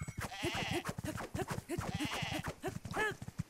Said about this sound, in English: maybe I can get some goods off the sheep